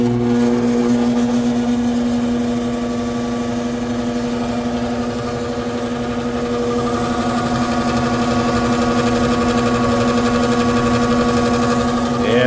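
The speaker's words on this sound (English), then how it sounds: "Hook that back up and see if it gets this motor sounding a lot healthier." An HVAC fan motor runs after its weak 25 microfarad capacitor was swapped, giving a steady loud hum with a strong tonal drone and mechanical buzz that holds even and unbroken throughout, with no talk.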